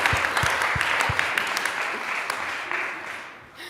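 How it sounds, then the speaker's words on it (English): Audience applause at a Berlinale Talents filmmaking talk, a dense sustained wash of clapping that holds steady and fades slightly toward the end, with a few louder claps near the start. "Clapping, clapping, clapping."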